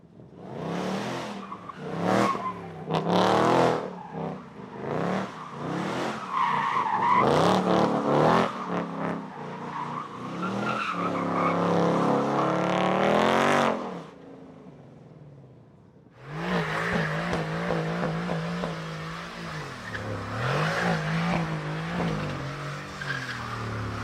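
A car slides sideways doing donuts, its tires skidding and squealing in long wavering bursts while the engine revs hard, with a brief silent gap before the drifting resumes.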